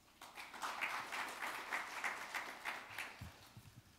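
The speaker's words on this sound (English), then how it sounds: "please welcome him with a big round of applause." An audience at a conference session on growth in Asia applauds to welcome a speaker, a steady wash of many hands clapping at moderate distance that tapers off near the end.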